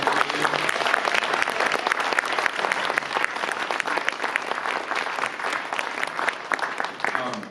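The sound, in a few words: audience applause for panel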